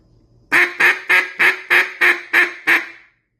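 A cut-down duck call blown in a quick, even series of eight loud, raspy quacks close up, trailing off at the end, with no voices.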